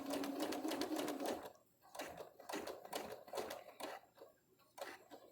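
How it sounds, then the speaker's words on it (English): A sewing machine stitches a folded fabric face mask, running in bursts of rapid mechanical stitching with brief pauses between runs, close and fairly quiet with no talking. "We're going to stitch all the way forward, stop, we're going to back stitch."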